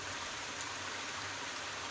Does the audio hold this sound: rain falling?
yes